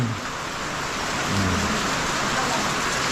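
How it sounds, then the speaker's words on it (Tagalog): Heavy rain pours during a storm at an outdoor hillside spot, a dense, steady roaring wash of rainfall close by, with faint voices briefly audible beneath it. "inabutan na kami ng bagyo. Ayan oh, lakas ng ulan"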